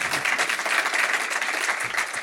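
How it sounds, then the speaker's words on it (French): Audience applause for a sailor at a French offshore sailing talk show, steady dense clapping from a studio crowd lasting the whole stretch at an even, fairly loud level. "Vous pouvez l'applaudir 2 fois même."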